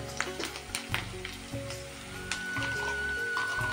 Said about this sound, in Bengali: লঙ্কা পেঁয়াজগুলো আমি একটু ভেজে নেব